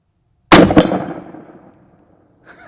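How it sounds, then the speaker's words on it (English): A wax slug fired at a 12-inch steel plate strikes with one sharp, loud crack-clang that rings and fades over about a second, followed by a brief faint noise near the end. "actually hit the 12-inch steel plate that's about a foot to the right of the edge of my target"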